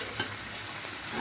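Chicken sizzles steadily in a frying pan as green chilies are added, a close, even crackle that holds for just over a second with a slight swell near the start.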